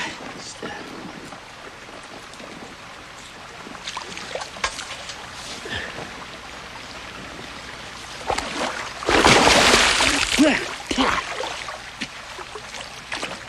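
Water splashes and sloshes in a swimming pool during a film scene, low lapping and scattered splashes under people talking, building to a loud burst of churning water before settling again.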